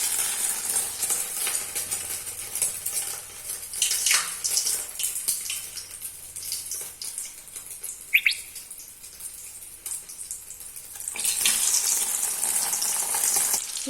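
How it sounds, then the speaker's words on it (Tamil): Egg-coated fish balls sizzle in hot oil with a steady broadband crackle across the whole clip, joined by faint bird chirps in the background and a brief sharper squeak near the middle. "இந்த முட்டையை இதில் போட்டு நல்லா பரட்டிட்டு இதை இந்த எண்ணெயில் போடலாம்"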